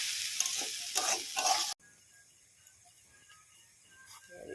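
Vegetables fry and get stirred in a pan. A loud sizzle with stirring scrapes cuts off abruptly, leaving a faint quiet background with a few soft clicks.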